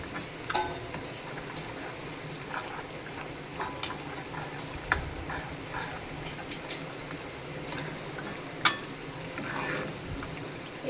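Guar bean curry is stirred in oil in a pan, giving a continuous soft sizzle punctuated by repeated scrapes and clinks of the spoon against the pan, close and moderately loud.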